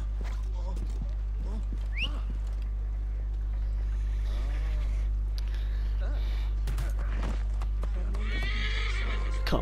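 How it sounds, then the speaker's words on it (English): A horse whinnies loudly a few times over steady clip-clopping hooves in the video game Assassin's Creed Origins, with a constant low rumble underneath and no voices. "Oh, I can't use my horse here."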